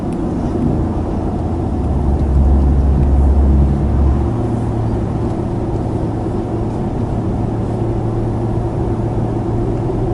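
A car drives through a residential neighborhood, with a steady low engine and road rumble that swells slightly early on and then holds even. No one speaks.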